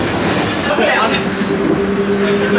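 Theme park tram at Epic Universe running after its doors close, a steady rumbling ride noise with faint rail clatter and a whine, heard under passengers chatting.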